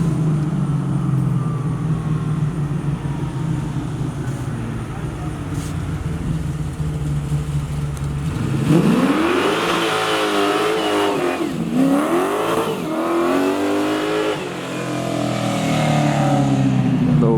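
A Buick Regal with a small-block V8 of undisclosed displacement revving close by, a steady rumbling idle that climbs into several loud, sweeping throttle blips and drops back between them.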